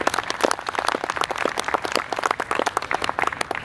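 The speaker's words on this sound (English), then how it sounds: "So a big round of applause please for Serena Hotel." Audience applause for the Serena Hotel at a talk event, a dense steady burst of many hands clapping throughout, fairly close and even in loudness, with no speech over it.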